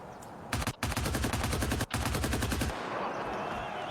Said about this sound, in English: There is Hyper out with that PKP, taking out Summit